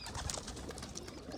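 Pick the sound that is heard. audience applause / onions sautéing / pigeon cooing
pigeon cooing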